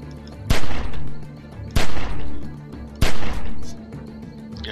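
Gunfire in The Walking Dead video game: three loud, sharp shots spaced about a second apart, each with a rumbling tail, over a steady background game noise.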